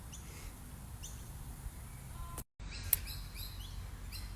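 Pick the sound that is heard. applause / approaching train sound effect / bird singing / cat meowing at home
bird singing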